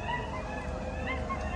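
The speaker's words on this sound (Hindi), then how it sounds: "ये आवाजें आप लोग सुन रहे हैं, ये गीदड़ है।" A pack of jackals howls, many high, wavering calls overlapping into a continuous chorus that holds steady throughout with no talking.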